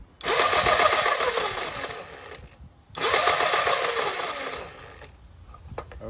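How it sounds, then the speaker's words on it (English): A Razor Power Rider 360 electric ride-on, running on a 20V DeWalt lithium battery swap, revs its motor hard with the front wheel lifted off the ground. There are two sustained whirring bursts of about two seconds each, separated by a short pause, loud and close. "lift up the front and give it some throttle to see what happens"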